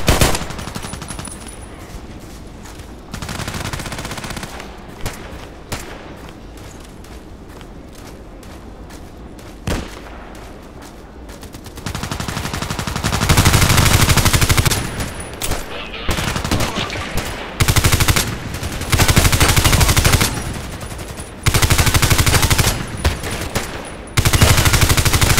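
Bursts of automatic fire from a Colt IAR rifle in the shooter game Contract Wars, loud, dense rattling volleys in the second half after a quieter stretch, with rock music playing underneath.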